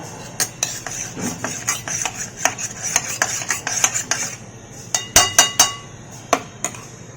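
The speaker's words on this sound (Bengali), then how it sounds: "এই দুটোকে জল দিয়ে একটু মিশিয়ে নিলাম" A spoon stirs turmeric and Kashmiri chili powder with water in a bowl, making rapid metallic clinks and scrapes against the sides in an uneven rhythm, loud and close, with no voices.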